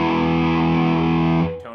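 Electric guitar played through a distortion pedal: one thick, heavily saturated sustained chord rings loud and steady, then cuts off near the end with a short fading tail. No one speaks.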